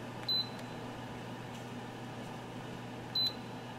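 A Geneva infrared quartz element heater gives two short electronic beeps as its timer button is pressed, spaced about three seconds apart over a steady low hum.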